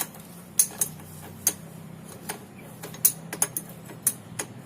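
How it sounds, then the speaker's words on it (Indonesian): A ratchet wrench loosens a propeller shaft bolt under a Toyota Avanza 1.3 during a clutch job, with a dozen sharp metallic clicks in irregular bursts over a low steady hum. "kemudian kita lepas baut poros propellernya"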